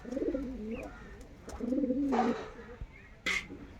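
Domestic pigeons kept at a home loft cooing, several deep throaty coos close by, with a brief faint chirp and a sharp rustle near the end.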